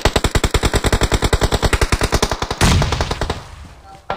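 Rapid automatic gunfire from teammates in the BGMI battle royale game, a loud, evenly spaced burst of about two dozen shots, then a sudden blast and fading rumble, no talk.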